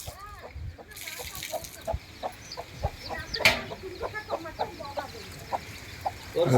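Chickens cluck in short repeated calls over a busy outdoor background, with occasional louder squawks and faint voices.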